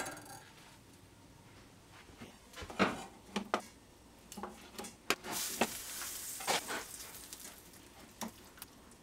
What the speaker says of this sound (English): Remember to keep it stirred so nothing burns on the bottom.